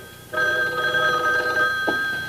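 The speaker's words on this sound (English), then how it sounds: "That's Pete now. He'll call right back" An old-style telephone bell rings steadily and loudly in a radio detective drama, one sustained electric ring starting after a short pause, with a brief knock near the end.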